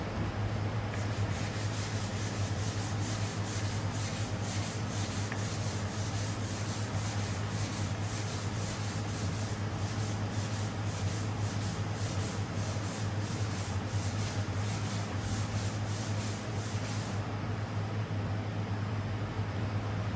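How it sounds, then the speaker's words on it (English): Continuous hand sanding of MG ZS car body panels: a steady, abrasive rubbing scratch with a low underlying hum, even and unbroken for the whole stretch, no talking. "I do get arm ache sanding all day"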